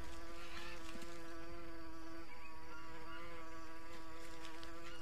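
Insects buzz steadily in the jungle of the survival game Green Hell, a constant droning whine that is close and fairly loud, with no talk over it.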